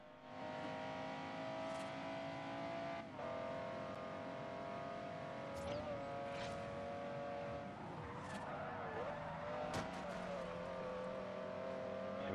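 A race car engine in the Forza racing game revs and accelerates through a course, with faint shifting whines, gear changes and brief skid or impact sounds, playing alone without talk.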